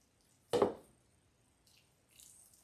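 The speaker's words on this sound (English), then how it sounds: "Now I'm going to bring it back over to my pie crust, and I'm going to pour it in." Coconut custard filling for a vegan pie is poured into a pie crust in a single soft, wet splat near the start, followed by faint quiet shuffling.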